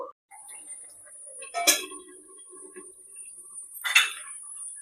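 A lid is set on a pan where ridge gourd and small mourala fish simmer, giving two brief metallic clinks about two seconds apart over a quiet kitchen background.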